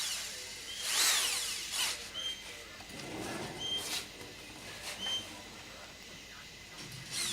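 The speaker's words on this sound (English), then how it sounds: "I'm just going to drill this and put a bolt in it" A power drill works on a Mk2 Ford Escort RS2000 under restoration, boring a bolt hole. Short whirring bursts rise and fall in separate passes, and faint background sounds sit between them.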